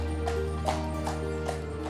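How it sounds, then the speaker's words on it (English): A horse and cart clip-clop over the cobblestone streets of Bruges, regular hoof strikes about every 0.4 seconds over a steady low rumble of wheels and street ambience. "take horse and cart over the beautiful cobblestone streets"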